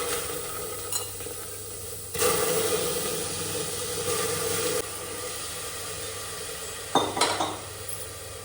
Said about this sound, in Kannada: ನೆನೆಸಿಟ್ಟ ಅಕ್ಕಿ ಬೇಳೆ ಹಾಕ್ತಾ ಇದ್ದೇನೆ.